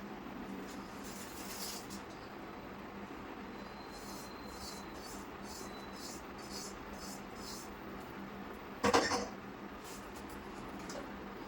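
Pulihora rice is stirred together with its tempering in a pot, making a steady, soft rubbing and scraping that runs throughout, broken by one sharp knock near the end.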